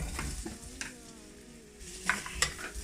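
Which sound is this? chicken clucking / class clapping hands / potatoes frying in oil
potatoes frying in oil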